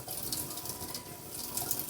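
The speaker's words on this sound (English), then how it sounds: "Then add it to a 5-gallon bucket that has hot water" Hot water pours steadily into a 5-gallon bucket while mixing a castile soap cleaning solution, a continuous splashing rush with no break.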